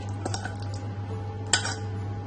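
Nuts stirred into eggless plum cake batter in a mixing bowl, with a few light spoon clinks and soft scraping against the bowl over a steady low hum, including one sharper knock near the end.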